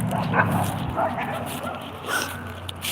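Dogs barking outdoors in a rural yard near a fallen tree, a few yips and barks at moderate distance over steady low background rumble.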